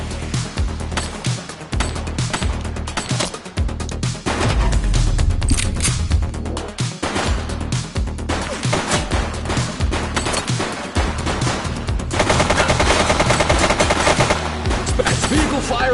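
Dense gunfire from the police video game The Precinct rolls on continuously, with rapid automatic bursts and sharp shots layered over music and game effects, loud and busy throughout.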